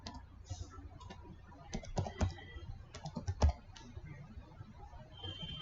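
Light computer keyboard typing into a search box, scattered soft key clicks in short irregular bursts against a quiet background.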